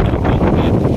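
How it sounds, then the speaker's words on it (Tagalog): Strong monsoon wind gusting across the Manila Bay shore, buffeting the microphone in a loud, continuous broadband roar with surging pulses, close and unbroken. "Lakas ng hangin, grabe, oh."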